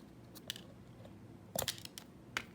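Scissors snip through a strip of Dollar Tree sequin trim in a few quick, crisp cuts near the end, faint and close in an otherwise quiet room.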